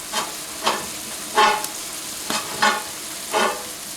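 A pot of fish curry simmers gently while it is stirred at regular intervals, each stir giving a soft, brief burst of sizzle over a low, steady background.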